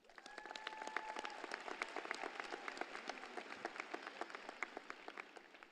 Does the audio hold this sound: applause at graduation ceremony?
yes